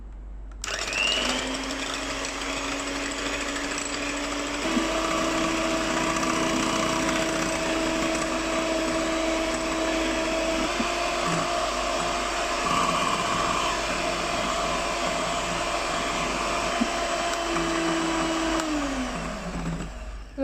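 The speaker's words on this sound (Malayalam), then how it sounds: "ഒരു 2-3 തവണ ഈ പഞ്ചസാര ഇട്ട് ഇതൊന്ന് ബീറ്റ് ചെയ്തെടുക്കാം" Constant high-pitched whine of an electric beater whipping granulated sugar into a vanilla cake mixture, running close and unbroken throughout with small shifts in motor pitch.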